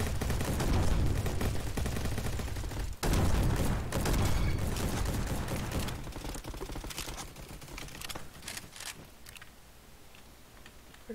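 Dense bursts of rapid gunfire and explosions from a shooter video game, loud and continuous for several seconds before thinning into quieter scattered shots and clicks.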